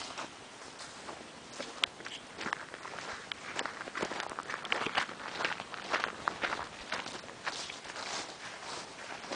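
Footsteps walking down a shooting range, a quiet, steady run of soft crunching steps on rough ground, fairly close, with no talking.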